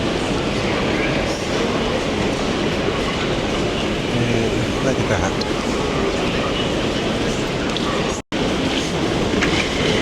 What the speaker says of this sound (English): And there's the trains.